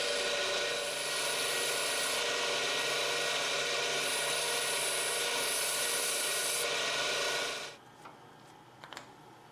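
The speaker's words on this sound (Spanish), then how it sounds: "luego daré una lijada suave para eliminar las" Light sanding of a turned wooden cylinder with sandpaper to clear chisel marks: a steady, close, broadband rubbing hiss that runs unbroken for most of the stretch, then stops abruptly, leaving a faint room tone with a few small knocks.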